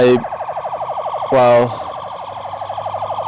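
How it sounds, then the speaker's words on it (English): A police car siren wails outside, its rising and falling tone cycling steadily and swelling louder for a moment as it passes, with a brief burst of speech over it. "maybe we'll just wait for the police to bugger off, and then you might actually be able to hear me"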